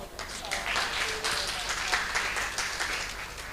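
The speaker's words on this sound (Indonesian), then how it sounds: "Sekali lagi boleh kita beri tepuk tangan yang meriah." Audience applause at a local climate innovation roadshow event in Makassar, a steady wash of clapping from a crowd with a faint voice briefly audible beneath it.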